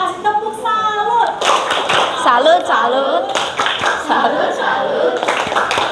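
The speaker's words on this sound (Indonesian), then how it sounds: "Kita kasih tepuk salut." Students in a classroom give a round of applause for a drama group, a burst of many hands clapping that runs under a teacher's voice and children's chatter.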